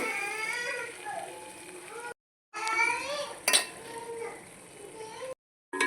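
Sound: egg curry ingredients being mixed in a pot

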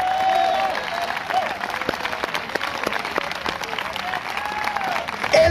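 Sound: church congregation applause

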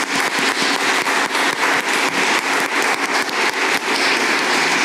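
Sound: audience applauding a panel

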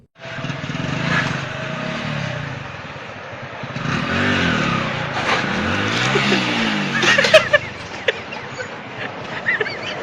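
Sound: motorcycle engine during bike stunt

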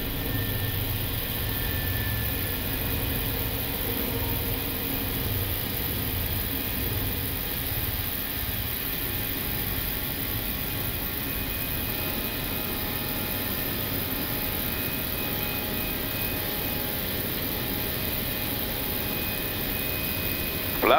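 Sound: Air Cote D'Ivoire A319 jet engines during takeoff climb

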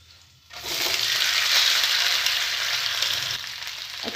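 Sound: suji (semolina) balls frying with garam masala and turmeric

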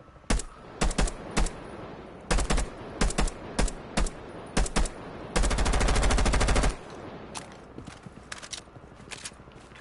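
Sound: grenade launcher fire from a video game

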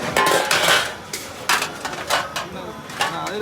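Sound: plates being taken away after a festival feast

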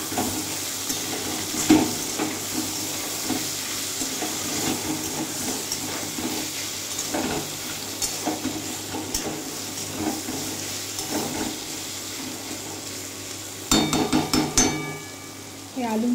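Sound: potatoes and bitter gourd frying and stirred in pan

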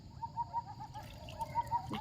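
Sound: various birds calling in a forest

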